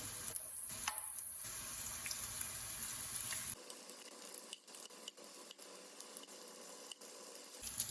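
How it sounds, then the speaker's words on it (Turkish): Steady sizzling of meatballs frying in a pan, close and continuous, with occasional scraping and stirring sounds. "Şimdi köftelerimi biraz arkalarını kızartacağım."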